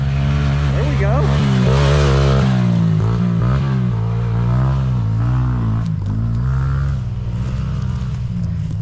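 Mini quad racers riding a small dirt loop, their engines revving and buzzing steadily close by, pitch rising and falling as they accelerate through the course.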